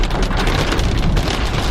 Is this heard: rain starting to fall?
yes